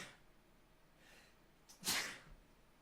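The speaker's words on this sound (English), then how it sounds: "Ooh, a quad sneeze." A person lets out a sharp, close sneeze near the end, preceded by faint breathy intakes, in a quiet indoor setting.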